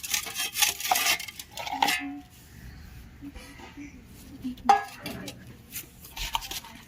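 Salt and spices are worked into food by hand at a New Year picnic, with irregular rubbing and squelching, bowl clinks and scrapes, and a voice talking at times.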